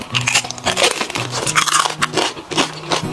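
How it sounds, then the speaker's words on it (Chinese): Crispy pork belly bitten with loud, close crunches in a quick irregular series, served alongside Xinjiang fried rice noodles in spicy sauce, with chewing between the cracks. "嘎嘣脆的声音可太治愈了。"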